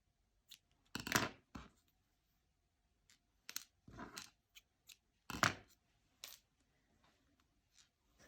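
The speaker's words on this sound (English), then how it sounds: "You can cut off on the excess yarn." Scissors snipping excess yarn on a crocheted top, a handful of crisp close cuts spaced irregularly across a quiet room.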